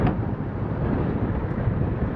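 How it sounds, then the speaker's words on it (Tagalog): Strong roadside wind near Lemery, Batangas buffets the microphone in a continuous low roar, steady and loud with no other sounds standing out. "malakas ang hangin dito"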